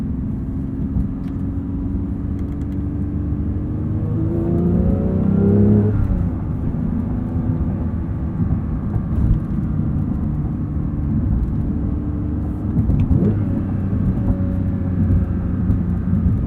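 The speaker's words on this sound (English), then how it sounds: "I've actually really enjoyed driving this GT3, doing all my rev matching myself this week." A 2022 Porsche 911 GT3 with a manual gearbox and rev-matched shifts drives on the road, its engine droning steadily from the cabin and climbing in pitch through a rev rise before settling.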